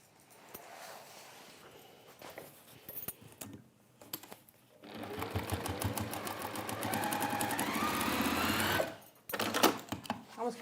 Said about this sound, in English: And you're going to sew on that line.